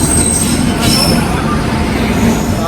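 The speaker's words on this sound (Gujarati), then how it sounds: "ટ્રેન આવી ગઈ છે" A Bhavnagar-to-Goa train rumbles into a station with a loud, steady roar, metal wheels squealing high above the rolling noise, close by.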